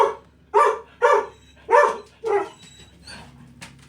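A dog barks at a recycling collector working in the neighborhood: five loud, close barks in an uneven rhythm, followed by a softer yip near the end.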